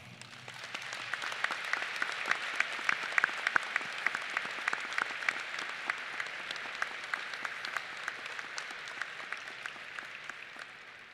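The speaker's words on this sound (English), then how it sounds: "I would like to take a moment for a round of applause for the class of 2020 and 2021" A hall of guests at a high school commencement ceremony applauds the graduating classes of 2020 and 2021, a steady, even wash of many hands clapping at a moderate distance.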